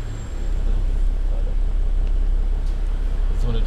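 A loud passing car on the road, its broad low rumble and roadway noise filling the whole stretch at steady level, with faint voices in the background.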